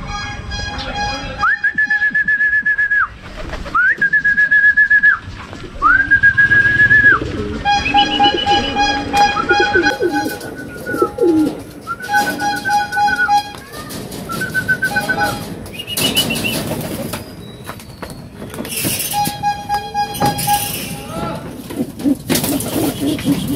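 Racing pigeons arriving at a loft during a derby race in La Union, with repeated nearby cooing and wing flaps among whistle-like calls, while people talk at intervals.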